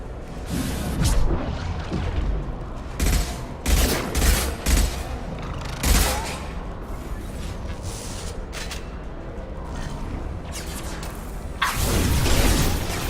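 Bursts of gunfire in a Mass Effect 2 battle against Geth, with loud volleys and booms arriving in irregular clusters and sustained dense firing throughout, no talk.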